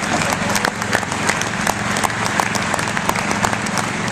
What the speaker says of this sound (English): give a big round of applause as they come up to the stage